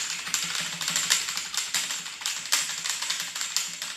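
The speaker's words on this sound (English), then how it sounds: "So far I like the keyboard. It has those mechanical white switches. It's pretty loud" Rapid, loud clacking of a Warwolf V10 mechanical keyboard with white switches, dense irregular keystrokes close up in a home room, continuous for several seconds with no voices.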